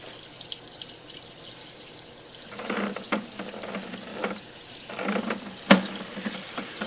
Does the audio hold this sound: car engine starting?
no